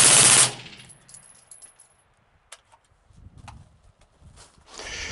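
A suppressed MAX-11/15 machine gun firing Winchester 5.56 ammunition through a TAC16 suppressor, gas block open six clicks, lets off a loud short burst, followed by light metallic tinkles and clicks, then another burst begins at the end.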